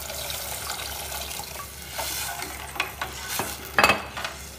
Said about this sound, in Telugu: ఇప్పుడు వాటర్ వేసేయాలన్నమాట.